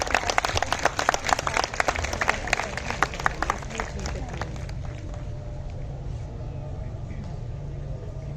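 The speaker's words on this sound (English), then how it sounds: "Please be generous with the applause." Audience applause at a school prize distribution ceremony, a dense burst of clapping for about five seconds that then thins and fades into room murmur.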